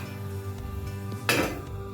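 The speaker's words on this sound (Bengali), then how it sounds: "এরপর এটা ঢাকা দিয়ে দেবো" A lid is set down over a pan of carrots on a gas stove while making gajar halwa, giving a single close metallic clatter partway through against a low steady background.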